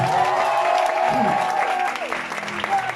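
A church congregation applauding and cheering in praise of the Lord, steady dense clapping throughout with voices calling out and a sustained sung or shouted tone over the crowd.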